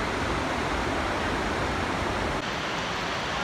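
A waterfall on the China–Vietnam border rushes as a steady, loud broadband roar with no breaks, heard alone without voices.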